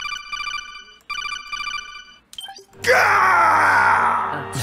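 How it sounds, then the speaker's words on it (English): In Metal Gear Solid 2, a shrill repeating electronic ring gives way to a sudden loud, sustained anguished scream that holds for nearly two seconds, close and dominant. "Now that's what I call a blood-curdling scream"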